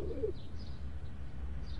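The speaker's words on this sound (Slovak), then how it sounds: "Zober si svojho holuba." A domestic pigeon coos softly in a short, low burst near the start, then fades into a steady low background hum.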